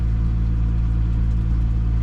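Supercharged Pontiac GTO engine running loud and close, a steady deep rumbling idle with a constant low throb and no voices.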